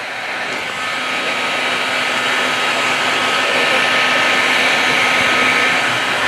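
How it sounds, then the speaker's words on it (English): Steady, loud rush of a heat gun blowing hot air across a freshly poured epoxy countertop, a constant broadband whoosh holding at close range for the whole stretch with no talk. "Just to get the heat gun onto this, and with a bit of heat and the air"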